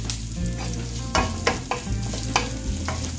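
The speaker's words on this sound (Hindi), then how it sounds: "थोड़ा सा भून लेंगे इसको।" A handful of green chillies fries in a pan with a steady, close sizzle, punctuated by several sharp scrapes and knocks as they are stirred, with no talking.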